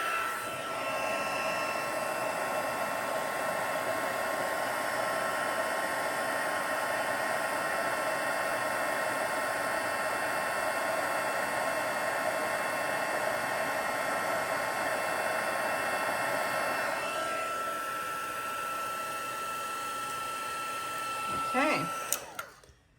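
A heat gun blows a steady, loud hiss of hot air while embossing a birthday card, running continuously for about twenty seconds before cutting off with a couple of clicks.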